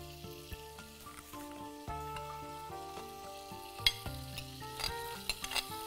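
Minced garlic sizzles in melted butter in a pan, giving a soft, continuous frying hiss with occasional small pops, heard beneath background music.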